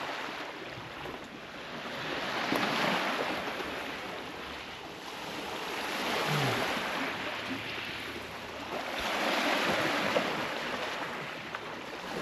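Waves washing onto the Lake Huron shore at Pioneer Park in Bayfield, a soft steady surge swelling and easing in slow cycles, with some wind and no talk.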